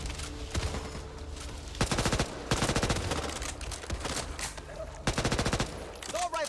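Rapid SMG bursts in the video game Back 4 Blood, several loud close volleys of fast-firing shots separated by brief pauses.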